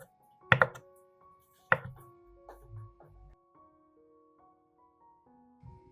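A knife chops tomatoes on a board: two sharp, close strikes about a second apart, then a few softer taps over a faint tonal background.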